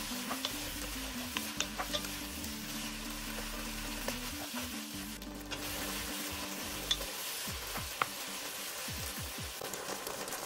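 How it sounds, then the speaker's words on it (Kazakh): Beef and onions fry on high heat in a pan, a steady, moderately quiet sizzle punctuated by scattered clicks and scrapes of stirring. "Етті 10-15 минуттай осылай оттың астын баяулатпай үлкен отта қуыра беріңіз."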